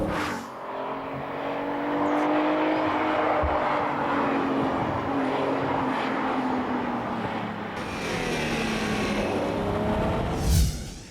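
A Lamborghini Countach LP400 sports car roars past at speed, a loud sustained engine howl that swells and fades, with no talking.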